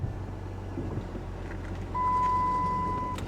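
A Ford Mustang GT rolling forward at a salvage auction lot, its engine a steady low hum with a faint whine rising partway through, heard alone at moderate distance.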